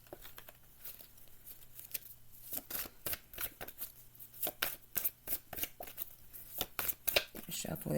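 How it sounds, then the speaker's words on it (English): Tarot cards are shuffled close up in quick repeated riffles and slaps, a crisp rhythmic flutter that quickens toward the end, with soft speech in the background. "Shuffle these cards."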